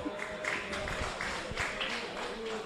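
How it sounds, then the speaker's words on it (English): Spectators at a women's football match between South Melbourne and Heidelberg United give a brief burst of scattered applause, faint and distant across the ground. "That applause there was for a return ball from the crowd here."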